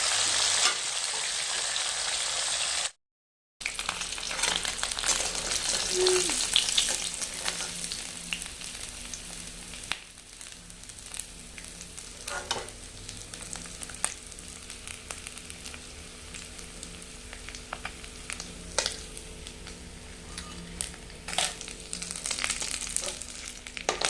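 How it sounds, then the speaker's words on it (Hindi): Fresh fish frying in hot oil for a home-cooked fish curry lunch, a steady dense sizzle running throughout with occasional crackles and pops, close up and loud, no talking. "तो यहाँ पे मेरा फ़िश फ्राई हो गया है।"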